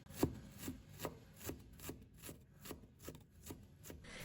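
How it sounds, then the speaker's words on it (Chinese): Knife mincing peeled ginger on a cutting board, a steady series of about ten evenly spaced chops with rubbing scrapes between them, close and moderately loud. "最后我们把它切成姜末就可以了"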